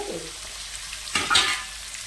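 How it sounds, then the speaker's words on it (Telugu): Green chilies fry in a hot pan for a ridge gourd curry, with a short burst of stirring and sizzling in the middle of an otherwise quiet stretch. "పచ్చిమిరపకాయలు ఇది వేగుతూ ఉంటాయండి"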